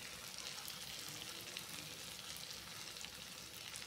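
Hilsa fish curry, a do-pyaza style dish, sizzles steadily as mustard oil is poured in, giving a continuous, even, close frying hiss with no talk.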